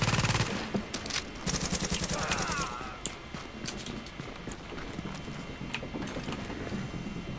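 An RPK machine gun fires in a video game, a rapid burst of close, evenly spaced shots at the start, then scattered lighter clicks and game noise with a single sharp report midway.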